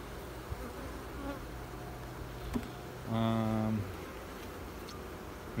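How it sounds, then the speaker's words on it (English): Honey bees buzz around the frames of a hive. A close, loud buzz passes for under a second over a quieter outdoor background. "there's a ton of bees on the frames that I do have up here"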